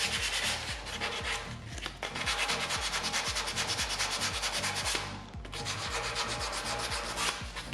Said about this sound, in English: After filling in any gaps or holes and doing some finish sanding